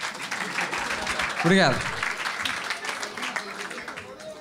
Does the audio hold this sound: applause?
yes